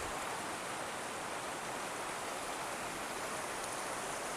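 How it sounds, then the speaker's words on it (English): A creek flows at a Colorado campground as a constant, even rush of water, steady and unbroken from start to finish. "And we got the creek."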